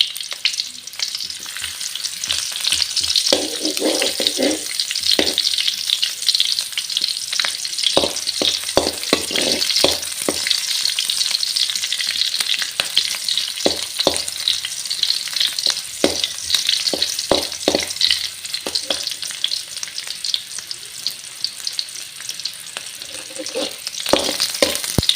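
Chopped onions frying in oil in a pan for a Tulu-style chutney tempering, a steady close sizzle throughout with occasional stirring scrapes and clicks.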